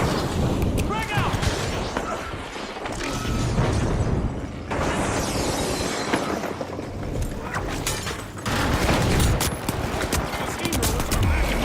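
A frag grenade explosion and bursts of gunfire in the first-person shooter The Finals ring out loud and dense in rapid, overlapping volleys, with game effects crowding the mix.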